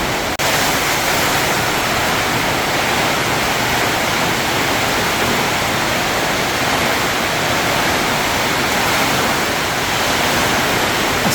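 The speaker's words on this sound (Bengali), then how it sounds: "ঝড় হচ্ছে।" Heavy storm rain pours down steadily, hammering a leaky tin roof in a dense, unbroken roar that stays loud and constant throughout with no voices.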